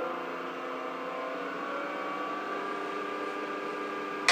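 A wood lathe turning a holly blank between centers spins up, its motor whine steady and gradually climbing, ending with a short sharp click.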